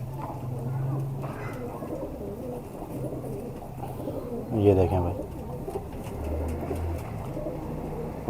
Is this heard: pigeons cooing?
yes